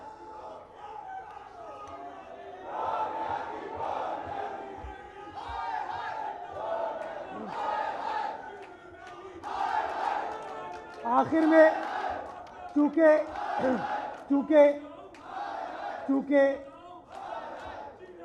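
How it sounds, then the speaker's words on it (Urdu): At a PPP social media workers' convention, a crowd chants slogans in loud, rhythmic bursts of many voices, rising and falling in repeated phrases, with shouted lead calls among them. "نعرے شارے بڑے چل رہے ہیں"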